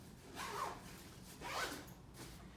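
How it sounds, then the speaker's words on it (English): A zipper on an Onli travel cube shoe folder is pulled in two long, smooth strokes with a shorter third tug, close and soft with a rasping sound. "We've designed this so that it's easy to zip up."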